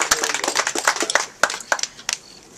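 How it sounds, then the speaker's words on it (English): A small group at a church camp meeting claps for a couple of seconds, scattered and uneven, fading out toward the end. "a round of applause for Risty"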